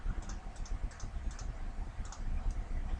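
Typing on a computer keyboard, a quick run of faint, close key clicks over a steady background noise.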